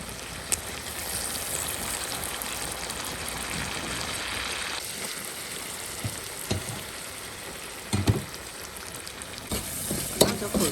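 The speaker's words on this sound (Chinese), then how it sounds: "混合一起炒" Twice-cooked pork with garlic scapes, fermented black beans and soy sauce sizzles in a wok, a continuous frying hiss with occasional clanks and scrapes of stirring.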